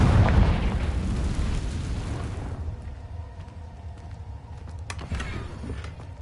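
A Confringo blasting spell from Hogwarts Legacy erupts in a loud, rumbling burst that decays over a couple of seconds, followed by a fainter sharp pop.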